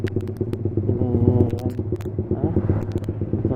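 A Suzuki GSX-R 150 sport motorcycle with a manual clutch hums at a steady low engine note while riding, with someone talking over it throughout.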